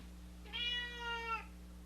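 A single cat meow, drawn out for nearly a second and close to the microphone, rises over a steady low room hum and then fades back to quiet.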